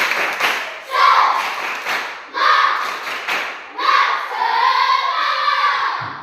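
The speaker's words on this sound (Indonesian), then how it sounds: "Sekali lagi, tepuk semangat." A classroom of children performs a rhythmic clapping chant, bursts of claps in patterned groups with shouted voices, loud and close, repeated in several phrases.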